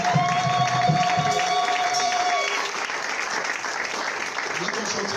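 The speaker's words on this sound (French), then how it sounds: "On va acclamer pour Jésus." A church congregation at a French-language seminar applauding and cheering for Jesus, dense steady clapping with crowd noise, voices mingled in, a held keyboard tone fading midway.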